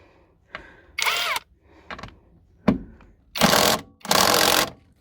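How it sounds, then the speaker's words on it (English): An impact drill removes a door bolt on a Lexus IS, several short buzzing bursts, the last two longer and louder, close up. "We're going to use the impact drill."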